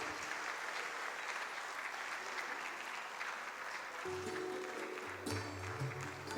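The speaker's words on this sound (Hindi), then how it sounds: "आप सभी जोरदार तालियां बजाएं।" Sustained applause from an audience at a magazine release event on stage, steady dense clapping throughout, with a low hum and voices entering toward the end.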